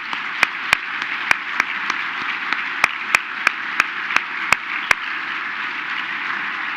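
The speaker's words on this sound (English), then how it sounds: "let's give you a round of applause" At a business association's annual meeting, an audience applauds the committee chairmen: a soft, even bed of clapping crowned by a dozen sharp, close hand claps spaced irregularly over several seconds, fading out near the end.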